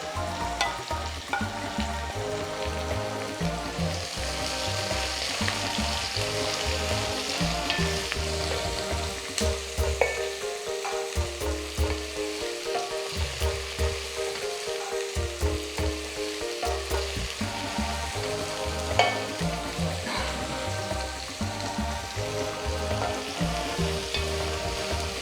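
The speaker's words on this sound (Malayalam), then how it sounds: "ഈ വലിയ ഉള്ളി ഇട്ട് കൊടുക്കാം." Large onions fry in a pan with a continuous close sizzle, and stirring and scraping sounds rise and fall throughout the long stretch.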